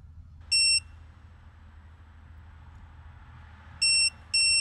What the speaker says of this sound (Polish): Żeby ustawić tryb B, przytrzymujemy przycisk do dwóch sygnałów.